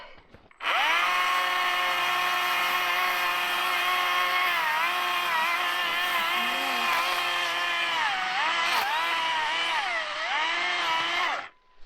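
A Stihl chainsaw cuts down a Christmas tree in the mountains at 10,000 feet, a loud close buzzing engine whine running steadily for about eleven seconds, its pitch dipping and rising as the chain bites into the trunk.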